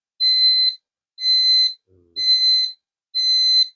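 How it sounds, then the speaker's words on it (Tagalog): A motion-sensor alarm at a sari-sari store sounds while a person stands nearby, giving four loud, steady electronic beeps about half a second each at an even rhythm, with a brief low murmur between the second and third. "Ayan, mag-alarm yan."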